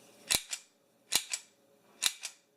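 A part of a Walther PPK/S CO2 BB airgun, which has a plastic grip and a full metal body, being snapped into place: three crisp, close mechanical double clicks spaced under a second apart in a quiet room.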